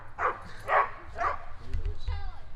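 Several dogs barking in a garage or driveway during a car parts install on a Nissan 370Z, with three strong close barks in a row followed by fainter yips and whimper-like squeaks.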